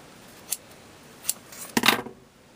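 Scissors snip through a ribbon bow for a hot-glue recycled table centerpiece: two light clicks followed by a louder, longer cutting crunch, close up and alone.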